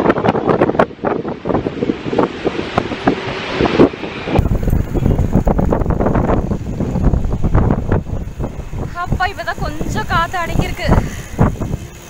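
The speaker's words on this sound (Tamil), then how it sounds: "காற்று பாருங்க எவ்வளோ செம்மையாக இருக்குன்னு" Strong wind gusting outdoors and buffeting the microphone with heavy rumbling bursts, while a person talks throughout and birds chirp faintly near the end.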